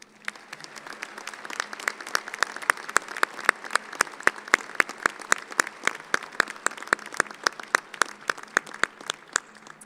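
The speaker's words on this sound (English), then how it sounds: "Please recognize these individuals with a round of applause." Applause for engineering faculty at a fall commencement ceremony: a large audience clapping in a steady, sustained wash, with sharp individual claps standing out near the front throughout.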